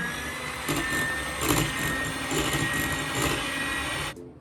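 An electric hand mixer runs at low speed through cake batter with melted butter, producing a steady buzzing motor whine with slight pulsing. The whine cuts off abruptly near the end.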